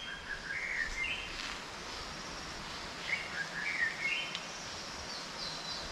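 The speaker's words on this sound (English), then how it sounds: "Birds are so pretty." Birds sing in a Thai jungle in Rayong, with a few bright chirping phrases repeated at a moderate distance over a steady hiss of insects and forest ambience.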